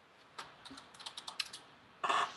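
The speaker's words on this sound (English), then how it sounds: "And you're super, super loud typing." Fast clacking keystrokes on a computer keyboard, a quick irregular run of individual taps close to the mic, ending in a louder cluster of clatter, in a quiet room with no talk.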